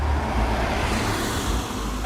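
Road traffic rolls past an outdoor property auction in Mount Waverley, a continuous broadband roar of cars passing close by with no pause, drowning out the surroundings.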